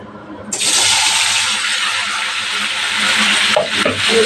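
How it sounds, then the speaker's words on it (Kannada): Tomatoes hit hot oil in a pan for Andhra-style tomato chutney, setting off a sudden loud, sustained sizzle and hiss that carries on steadily, with a few stirring scrapes near the end. "ಬಿಸಿ ಇಟ್ಕೊಂಡು ಆಯಿಲು ಟೊಮೆಟೊ ಹಾಕಿ ಹುರ್ಕೋಬೇಕು"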